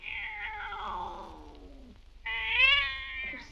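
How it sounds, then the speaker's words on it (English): A cat meows in drawn-out, distressed wails while its ears are pulled, one long falling cry then a louder rising yowl, close and clear, in a 1960 drama. "You're twisting that poor cat's ears off."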